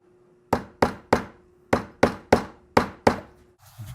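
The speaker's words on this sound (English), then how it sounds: "I'm going to make it on the strap hanger here, and I'm going to rivet it all together" Rivets being hammered into a leather strap on a strap hanger, eight sharp, loud metallic strikes in an uneven rhythm over a faint steady hum, then quiet handling noise.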